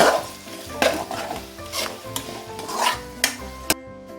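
Chicken liver fries in an oily pan while a spatula keeps stirring it: a continuous close sizzle broken by repeated scraping strokes and a sharp metallic knock near the end.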